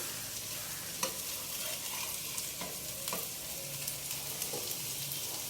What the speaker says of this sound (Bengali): এইভাবে এই তেলের মধ্যে বড়াটা ভালোভাবে ভাজা হচ্ছে।